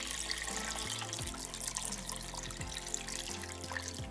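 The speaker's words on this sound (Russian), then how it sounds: "Заливаем все это холодной водой." Cold water runs steadily from a tap into a pot of meat, a continuous splashing trickle heard close but at low volume, with no talking over it.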